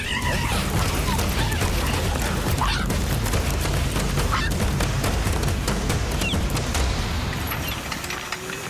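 A female cheetah in heat lies on her back and gives a submissive call while males attack her in the wild. Harsh, honking cries repeat over a continuous scuffle of noise.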